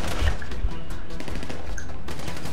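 Dense bursts of video game gunfire crackle in a loud, close fusillade, overlapping shots filling the moment with no clear pauses.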